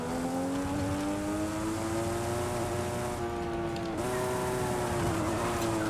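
A Toyota Supra driven in Forza Horizon 5, its engine droning loud and steady with a smooth rising pitch, a brief dip around one gear change, and no talk over it.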